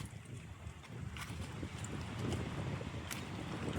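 Steady, strong outdoor wind roars and buffets throughout in a village, a broad rushing noise with gusty swells and occasional rattles, no voices.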